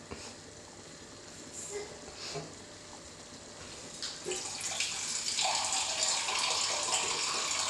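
Water being poured into an egg masala gravy in a pan, a soft continuous splashing pour that swells louder and brighter in the second half, with no talk.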